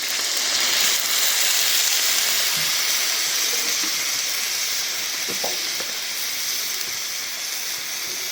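Water poured into a hot pan of frying dried fish with onion, oil and green chilies sets off a loud, steady sizzle and hiss that fills the whole stretch, with faint stirring clicks underneath.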